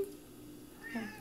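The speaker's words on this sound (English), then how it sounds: "Meow. Meow. Meow. I'm starving." A house cat meows once, a short mid-pitched call near the end after a quiet stretch, close and fairly clear.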